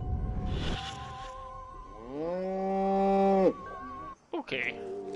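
A cow in a video game gives one long, drawn-out moo that swells in the middle, with a buzzing insect-like drone before it and brief clipped sounds after it.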